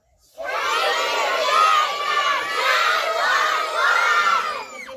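Many children yell together in unison at a school assembly, a loud, sustained crowd shout that rises in waves and lasts several seconds.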